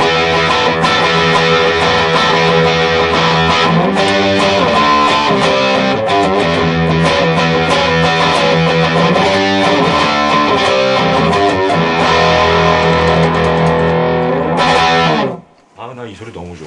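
Electric guitar played through a 30-watt Vox AC30CC2X combo amp, a loud, dense distorted tone with effects, sustained chords and riffs ringing out continuously before cutting off abruptly near the end.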